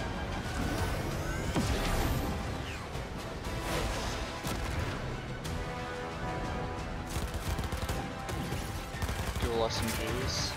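Rapid dual SMG gunfire from the Fortnite Chapter 5 Season 4 trailer, with loud bursts mixed into a dense, continuous soundtrack of explosions and music that stays busy throughout.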